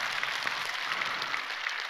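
A church congregation claps, a soft, even patter of many hands that carries on steadily with no voices over it.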